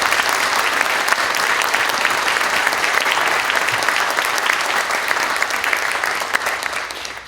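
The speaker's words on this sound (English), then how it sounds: "I think they all deserve a huge round of applause." An audience applauds at the dedication of a new emergency room in East Hampton, with dense, sustained clapping from many hands filling the room at a steady level for several seconds before easing slightly.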